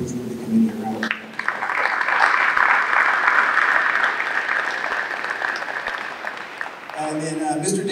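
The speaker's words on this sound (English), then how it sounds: "Can we please give the committee a round of applause?" An audience at a high school hall of fame ceremony breaks into sustained applause for several seconds, with a speaking voice just before and after the clapping.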